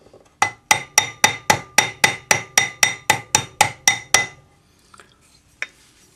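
Close, crisp metallic taps ring out as a French jeweler's hammer cross-hatches a texture onto a metal ring, roughly fifteen evenly spaced strikes in a brisk run, followed by near silence and a couple of faint stray knocks.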